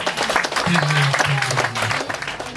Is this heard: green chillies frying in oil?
no